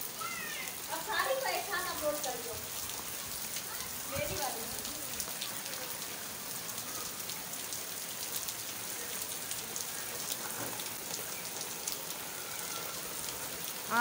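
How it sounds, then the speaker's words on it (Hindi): Steady rain pours outside a house gate, soaking a parked motorcycle, making a constant close hiss of drops with a faint voice briefly at the start. "हम घर के गेट में खड़े हुए एंजॉय कर रहे हैं बारिश की"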